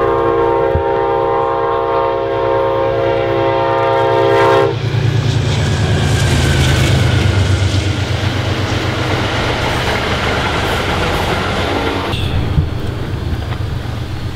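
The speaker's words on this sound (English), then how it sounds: "Let's go before the next midnight train comes." A train passes close by with a long, loud horn blast at the start, followed by a sustained rumble and clatter of cars rolling past.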